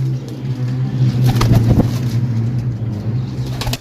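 A pigeon up for sale at a bird market coos low and close, a droning hum with some brief flutter and handling noises around it, fairly loud.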